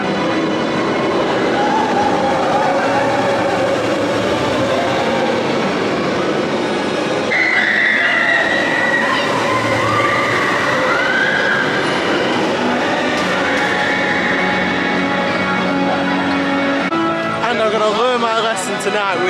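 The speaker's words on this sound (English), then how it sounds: "Look at the Tron train going by." A Tron roller coaster train at Magic Kingdom rushes by with a loud, sustained rumbling roar, backed by dense crowd and park noise.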